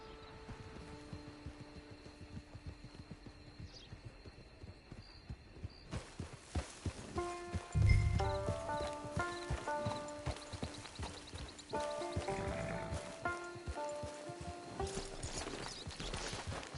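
Horse hooves clip-clopping in a video game, a steady rhythmic beat of hoofsteps running throughout, joined by music and a sudden loud thump partway through.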